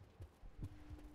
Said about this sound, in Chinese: 这个心跳的声音。